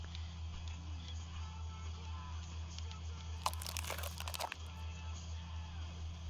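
Crunching from the Autopsy Simulator video game comes as a brief cluster of crisp cracking, crackling bursts over a steady low electrical hum, lasting about a second before fading.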